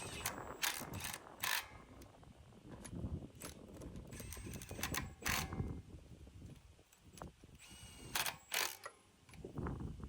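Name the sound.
tightening wheel lug nuts in star pattern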